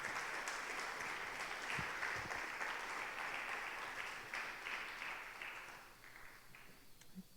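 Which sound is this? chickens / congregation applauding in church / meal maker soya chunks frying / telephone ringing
congregation applauding in church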